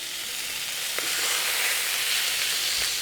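Fish fillets fry in a hot pan with a steady, close, bright sizzle, and a couple of soft taps break through it.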